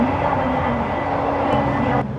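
Jakarta LRT light rail train running along a winding elevated track and passing another LRT train, a steady close rumble with rail hum and a faint brief whoosh near the end.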